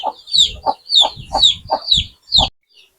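Free-range desi chickens clucking at morning feeding, about six short close clucks in an uneven rhythm, then silence.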